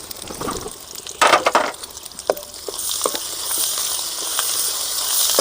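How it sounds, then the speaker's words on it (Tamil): Chopped onion and ground ginger-garlic paste frying in oil for a Tamil river dry fish curry, a steady close sizzle with stirring scrapes and clatters early on, no talking. "நல்லா இஞ்சி பூண்டை போட்டு பச்சை வாசம் போகும்."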